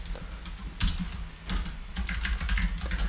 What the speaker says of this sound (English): So type in the word style